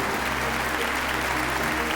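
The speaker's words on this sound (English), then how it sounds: "So let us clap for the trainers, Mr. David and Mr. Gabriel." Children in a school audience applaud trainers on stage at an Independence Day honouring ceremony, a dense, steady wash of many hands clapping throughout.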